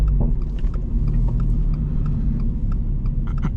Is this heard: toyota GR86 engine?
yes